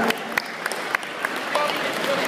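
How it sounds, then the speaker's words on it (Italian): Scattered clapping from a small group at a sports trophy event, light and uneven, with a few sharper claps standing out over a quiet murmur. "facciamo un bel applauso"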